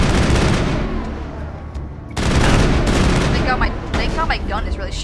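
Rapid, sustained gunfire from the player's weapon in the video game Mass Effect, loud and dense with bursts and booms, dipping briefly before resuming.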